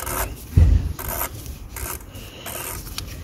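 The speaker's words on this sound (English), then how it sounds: "put it in there, start spinning it by hand." The oil filter housing on an Audi EA888 engine is spun on by hand, making close, repeated gritty scraping and rubbing strokes with one dull thump early on.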